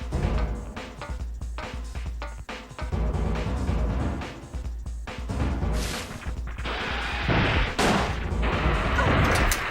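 Rapid handgun gunfire from the video game Dino Crisis 2, a dense run of sharp shots layered over game music and effects throughout, with heavier bursts near the end.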